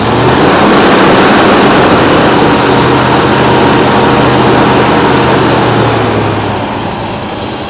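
Early D-Jet fuel-injected V8 engine idling loud and steady with a rough, missing stumble, a broad low rumble throughout that eases slightly near the end as throttle is given.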